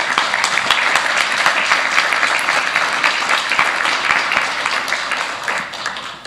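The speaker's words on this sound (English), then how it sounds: "Telethon volunteer deserves our sincere thanks and big round of applause." Sustained applause from a crowd at a New Year's Day celebration thanking telethon volunteers, dense steady clapping that holds evenly for several seconds with no voices over it.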